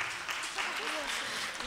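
Applause from the audience at a light and folk music festival, quiet, fairly distant clapping blended with crowd murmur, with faint voices beneath it.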